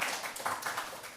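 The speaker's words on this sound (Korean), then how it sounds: "박수 한번 쳐요." A church congregation gives a short burst of clapping to welcome a returning member during a sermon on Romans, a dense, moderately faint patter of many hands lasting about a second with no voices over it.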